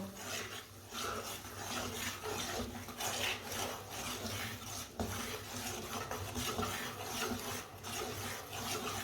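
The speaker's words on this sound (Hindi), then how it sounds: "चम्मच चलाते हुए भूनना दाल को" Ground lentils roasting in a pan are stirred continuously with a spoon, giving a steady, gritty scraping and rasping that stays even and close throughout, with no voices.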